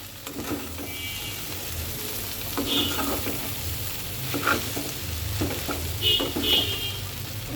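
A spatula stirs vegetable noodles tossed with Maggi masala in a sizzling frying pan, steady frying hiss under repeated scraping and light clinks against the pan, close and continuous.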